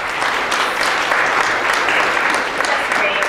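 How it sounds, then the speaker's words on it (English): Audience at a conference breaking into steady, dense applause, many hands clapping continuously and loudly with no pauses throughout. "Could you please give a round of applause for Kathy Miller?"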